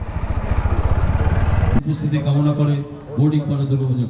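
A motorcycle's engine putters in a rapid, close, steady rhythm and then stops abruptly. Talking and the sounds of a busy Durga Puja street gathering follow.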